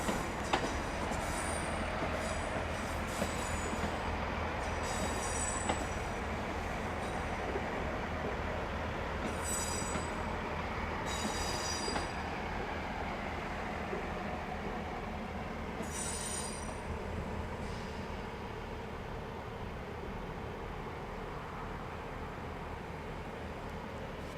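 A passenger train rolls into Twyford station on the Great Western Main Line with a constant rumble, while high-pitched wheel squeals ring out intermittently from the rails, fairly distant and continuous.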